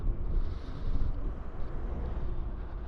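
Steady wind buffeting a microphone, a low rumbling roar that swells and eases throughout with no voices.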